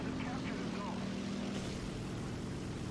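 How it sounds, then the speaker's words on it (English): A propeller fighter plane drones in from a distance in the War Thunder game, a steady hum under a continuous rumble of tank engine noise. "Looks like we've got a plane incoming as well."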